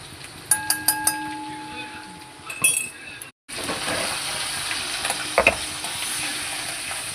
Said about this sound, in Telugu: ఈ పేస్ట్, టమాటా పేస్ట్ ఇందులో వేసి కలుపుతుంది.